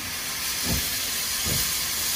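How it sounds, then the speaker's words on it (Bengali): A sky-blue toy train gives off a steady, loud steam-like hiss, swelling in two brief bursts over the continuous rush, with no talking. "আমরা দেখতে পাচ্ছি একটি স্কাই কালারের টয় ট্রেন"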